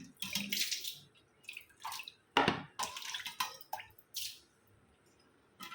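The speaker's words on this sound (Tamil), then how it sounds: "ஸோ நல்லா ஃபுல்லாக வாஷ் பண்ணிட்டு பார்ப்போம்" Water splashing and pouring as a cleaned copper vessel is rinsed, in irregular close bursts with drips and pauses between, no speech.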